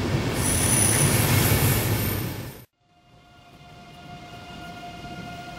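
A German EuroCity passenger train rumbles loudly past with a high wheel squeal, then cuts abruptly to quieter rail noise and a steady tone, with no talking.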